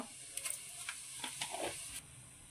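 Cumin seeds sizzle and crackle faintly in hot oil while a fish curry is being prepared. Quiet bursts of spattering come and go over about two seconds, with no talk.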